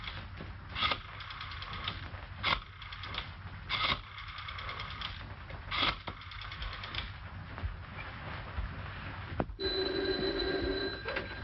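An old telephone in a 1938 detective film rings with an incoming call, repeated short bell bursts at irregular intervals over film hiss, ending in a longer sustained ring.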